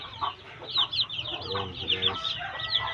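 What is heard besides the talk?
brooding hens clucking on a poultry farm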